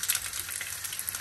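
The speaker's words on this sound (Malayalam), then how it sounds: "ഇതിൻ്റെ അകത്തോട്ട് കടുക്, ആ കടുക് പൊട്ടി, കടുക് പൊട്ടി. കേൾക്കാമല്ലോ സൗണ്ട് കേൾക്കാം" Mustard seeds sputter and crackle in hot oil in a pan, a dense, close sizzle with small pops for a brief moment, no voices.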